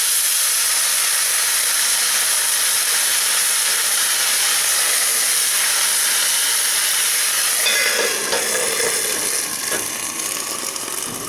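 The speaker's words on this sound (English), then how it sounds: "Now a little bit water to bring up the steam so it can cook thoroughly." Steam hisses steadily and loudly from a hot pan after a splash of water is added during cooking, a broad continuous sizzle that changes texture slightly near the end.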